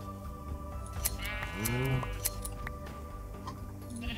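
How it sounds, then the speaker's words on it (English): A sheep in a video game lets out a single clear bleat mid-way during shearing, set against a soft, steady background with light clicking and clinking sounds. "Okay, let's shear some sheep."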